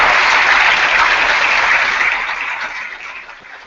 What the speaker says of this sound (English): let's give all of our young people, and artists and writers, a big round of applause